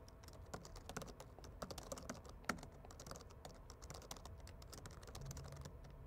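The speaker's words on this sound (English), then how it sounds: "I'll type in a very basic Hello World application." Fingers type steadily on a computer keyboard, a quiet, close run of rapid irregular key clicks with one sharper tap partway through.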